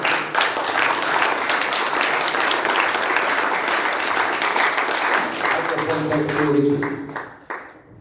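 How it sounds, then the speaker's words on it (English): Audience applause at a ham radio contest meeting in Istra, a steady dense clapping from a roomful of people that holds for several seconds before thinning and fading out near the end. "Can I have another round of applause to these two guys"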